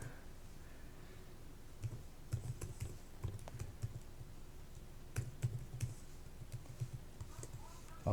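Email and password being typed on a computer keyboard in short irregular bursts of quiet clicky keystrokes, with pauses between groups, against a faint background hum.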